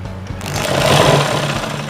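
A sewing machine stitches a blouse in a steady, close, loud mechanical whir that speeds up slightly and holds for about two seconds, with no talk.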